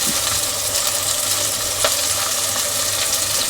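Oil frying in a clay pot while bitter gourd curry is prepared gives a continuous, fairly loud hiss and crackle, with faint clinks of stirring and no voices.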